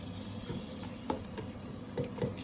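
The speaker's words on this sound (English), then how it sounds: "Just give it a good stir. Make sure the onions are covered." Tomatoes stirred into onions in a pan for chicken curry: soft scraping and stirring strokes with a light sizzle underneath, close and fairly quiet, a few distinct clinks of the utensil against the pan.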